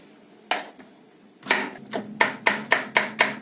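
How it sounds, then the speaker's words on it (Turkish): A knife finely chops onions rapidly on a cutting board, a few scattered cuts followed by a steady run of sharp, close knocks. "Soğanlarımızı ince ince doğruyoruz."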